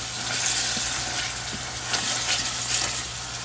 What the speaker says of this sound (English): we're going to allow our tomato sauce to cook